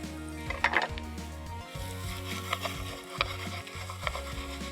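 Onion sautéing in a pan with oil while a utensil stirs, for a chicken steak with mustard sauce: a low steady sizzle broken by scattered scraping clinks, fairly quiet and close, with no talking.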